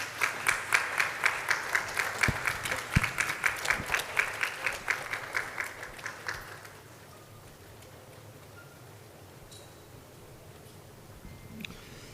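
Applause for the chairman of a university governing council at a memorial lecture, a crowd clapping steadily and loudly for about six seconds, then fading to a quiet hall with a few scattered claps near the end.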